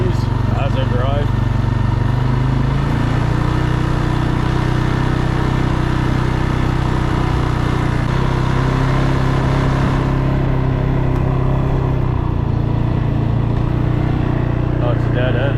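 A CFMOTO 600 quad engine runs steadily on a ride through thick fog in the woods, a loud continuous mid-pitched drone with slight throttle shifts, under someone talking.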